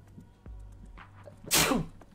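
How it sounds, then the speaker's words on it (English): A single sharp, loud human sneeze bursting out suddenly after a quiet stretch with faint low background hum, brief and close to the microphone. "I had to sneeze."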